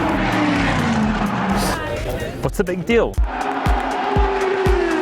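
Indy car engines roaring at high speed around an oval of four 90-degree left turns, loud and continuous with sharp passing surges and whines, with a voice speaking briefly over the engine noise.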